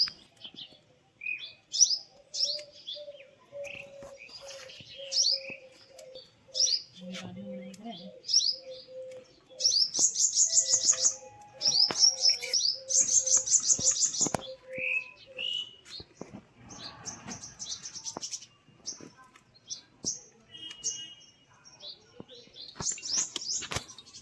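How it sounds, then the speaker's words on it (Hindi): Small bird chirping while feeding on moringa flowers outdoors beside a rural clay-stove kitchen, with repeated short bright tweets and chirps, some brief busier bursts and a faint low coo, close and fairly clear. "छोटी सी क्यूट सी चिड़िया है और ये मोरिंगा का फूल खा है"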